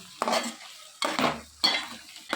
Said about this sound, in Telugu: మాడిపోకుండా ఇందులోనే కొద్దిగా కారం వేసుకొని మొత్తం మిక్స్ అయ్యేంత వరకు బాగా కలుపుకోవాలి